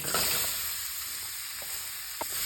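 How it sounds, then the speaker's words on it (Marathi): Guava pieces sauté in a chili and asafoetida tempering, giving a steady close sizzle with a couple of faint stirring knocks and no speech. "आता 1-2 मिनिटं पेरू छान परतून घ्यायचे."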